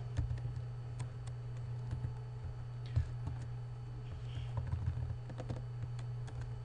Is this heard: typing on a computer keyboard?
yes